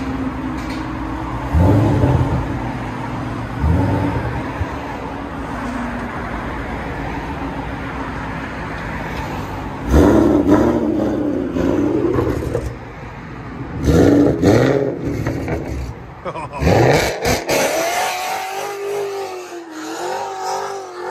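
A Ford Mustang GT500 engine is revved repeatedly, rising and falling in loud growling bursts over a rumbling idle, close up, with a final hard rev near the end.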